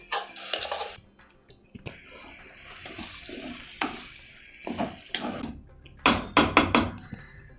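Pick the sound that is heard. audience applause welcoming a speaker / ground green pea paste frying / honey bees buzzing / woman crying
ground green pea paste frying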